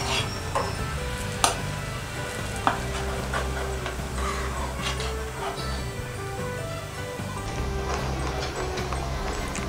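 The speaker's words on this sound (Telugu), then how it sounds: "షుగర్ బాగా మెల్ట్ అయ్యేంత వరకు ఇలా కలుపుతూ ఉండాలి" Milk with sugar is stirred in a pot on the stove, a steady scraping and swishing over a continuous background hum, with a couple of sharp clinks along the way.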